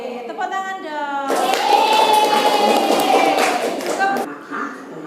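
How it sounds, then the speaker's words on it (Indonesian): A group bursts into dense hand clapping for about three seconds during a school lesson, loud and close, with a voice speaking just before and after. "Oke, tepuk tangan dong."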